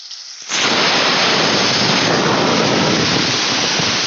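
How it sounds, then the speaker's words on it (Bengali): Cut bitter gourd pieces hit hot oil in a pan over low flame and burst into a loud, dense, steady sizzle that begins abruptly and continues without pause, no talking. "তেলটা আমার গরম হয়ে গেছে এবার কেটে রাখা উচ্ছেগুলো আমি দিয়ে দেবো"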